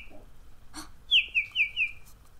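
A little bird chirps during a storytelling session: a short run of four bright, quick whistled notes, faint and close, over a quiet background.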